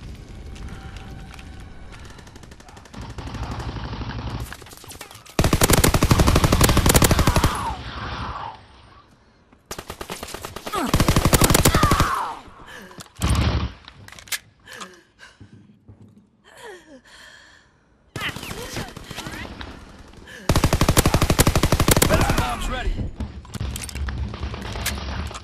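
Bursts of automatic and rifle fire in a Call of Duty WWII free-for-all online match, loud volleys several seconds long broken by quieter stretches with shouts and grunts.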